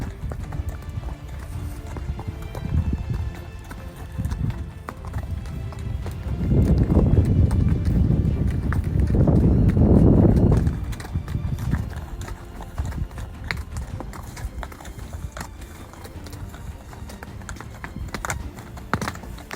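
Horse hooves clip-clop along the mountain trail up to Firebrand Pass in Glacier National Park, a steady walking rhythm that grows louder and denser midway, with occasional creaks and rustles around it.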